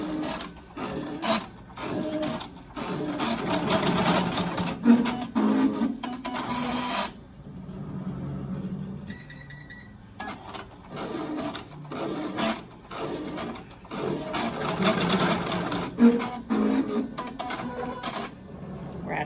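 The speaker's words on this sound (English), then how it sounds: "Now it's going to sew the bottom of pleat number 2" A Melco embroidery machine stitches the bottom of a mask pleat, giving a rapid mechanical stitching clatter in two long bursts separated by a quieter pause, close and steady with no talking.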